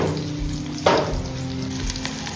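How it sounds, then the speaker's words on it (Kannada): Chopped onion with cumin frying in a hot pan for chilli chicken, a low continuous sizzle with one brief louder burst partway through, close and moderate, with no one speaking. "ಸ್ವಲ್ಪ ಒಂದು ಆನಿಯನ್ ಕಟ್ ಮಾಡಿ ಹಾಕ್ತೀವಿ. ಆನಿಯನ್ ಫ್ರೈ ಆಗಬೇಕು."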